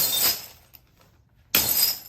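A crash box sound-effect prop filled with glass and bottles gives two loud bursts of shattering, crashing glass with a brief near-silent pause between them, close and alone.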